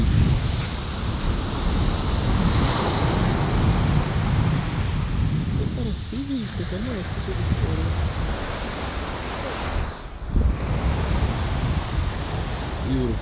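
Ocean surf breaks on a beach in a loud, continuous wash of rolling waves, with wind buffeting the microphone throughout.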